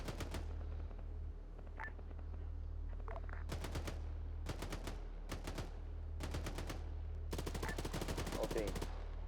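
Bursts of automatic gunfire from armoured vehicles in the military shooter Arma 3, with rapid repeated volleys in several separate strings over a steady low engine rumble, and faint radio-style voices in the background.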